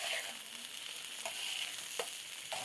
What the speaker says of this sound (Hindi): प्याज के साथ अच्छी तरह से फ्राई करेंगे चिकन को भी।